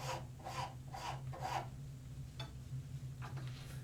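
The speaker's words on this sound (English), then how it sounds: "An old rasp, hundreds of uses these old rasps." An old hand rasp files the wood of a hammer handle in a series of short, even strokes, four quick rubs followed by a pause and a couple more, close and fairly quiet.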